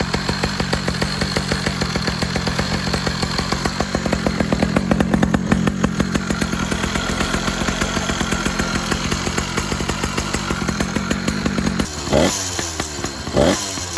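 A two-stroke motorized bicycle engine runs loud and close with a raspy, buzzing, chainsaw-like rattle, holding a fairly steady pace before a couple of sharp revs near the end.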